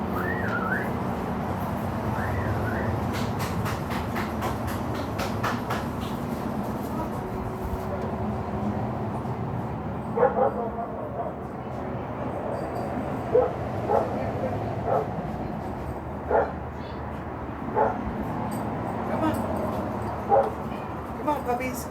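Small pet dogs at home yip and bark in short, sharp bursts with occasional whimpers, scattered over a steady background hum, while someone talks intermittently and whistles.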